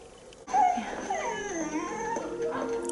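A female dog whimpers and whines in a series of high, wavering cries that rise and fall, fairly close and continuous, with faint background noise and no talk.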